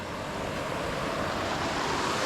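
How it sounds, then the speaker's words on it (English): Steady rushing water from rapids in a creek, a dense, even, broadband roar that holds constant throughout, with no voices. "I hear this like rushing water sound that is indicative of water spilling over something."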